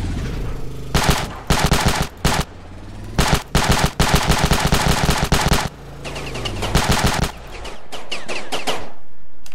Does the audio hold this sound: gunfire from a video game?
yes